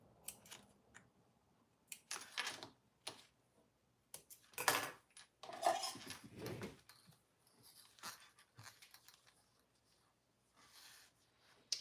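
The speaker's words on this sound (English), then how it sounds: "So I'm just cutting off my excess on the back and the sides." Scissors trim excess vinyl with scattered, irregular snips and rustles, fairly faint with pauses between cuts.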